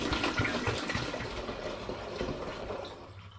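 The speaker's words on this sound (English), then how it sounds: "So I'm just going to pour the wort back into it." Homebrewed wort for a strong ale is poured back into a clean plastic fermenting vessel, a continuous close splashing and gurgling of liquid that gradually thins and fades toward the end.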